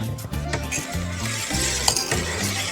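A spoon stirs perfume into an aloe vera soap mixture, making soft scraping and light clinking against the container over steady background music, with no talking.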